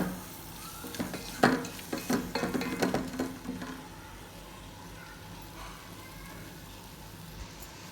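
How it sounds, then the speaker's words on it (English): Cooked bitter gourd being mixed with tamarind pulp and salt for gojju, a few scraping, clattering stirs in the first half that fade into quiet background. "Let us give it a nice mix."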